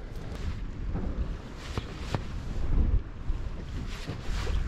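Gusty wind buffets the microphone in a steady roar, with water and boat sounds faintly underneath, while fishing for smallmouth bass.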